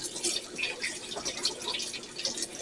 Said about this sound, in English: Make sure you wash them up good.